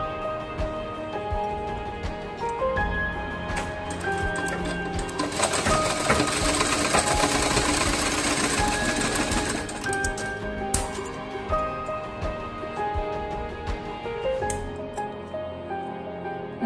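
Sewing machine stitching a cloth face mask, running in steady bursts of rapid needle chatter with a denser, louder run in the middle, close up and alone without speech.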